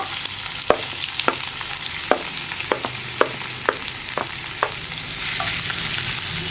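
Ginger, green chili and onion frying in hot oil while being stirred, a steady sizzle under repeated sharp scrapes of the spoon against the pan, roughly every half second, with no voices.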